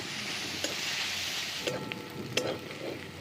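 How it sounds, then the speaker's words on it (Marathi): Chopped onion sizzles and fries in a pan while being roasted to a deep red-brown, a steady crackling hiss with a few stirring clicks and scrapes near the close. "आता कांदा भाजत आलाय"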